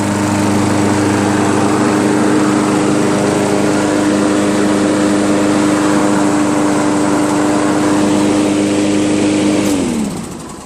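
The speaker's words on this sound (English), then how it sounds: "It's been running for about 10 minutes now, running smooth." A Craftsman 7.0 Platinum lawnmower with a Briggs & Stratton engine and auto choke idles loud and close with a steady, even drone, then winds down and cuts off at the end.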